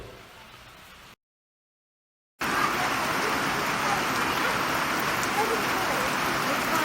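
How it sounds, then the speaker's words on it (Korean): Rain pours outdoors at Blue Springs in Florida, a dense, even hiss heard faintly at first, cut off by a second of silence, then returning louder and steady. "나름 비 오는 것도 운치 있네요"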